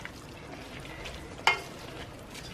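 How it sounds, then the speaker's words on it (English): Garlic frying in a pan for lasagne being stirred: a steady low sizzle with a single sharp clink of the utensil against the pan midway, quiet and close. "we're going to give that a stir"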